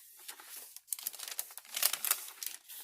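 Parchment paper crinkles and rustles as it is handled for a handmade journal, close and crisp, in bursts of crackling that grow busier toward the end.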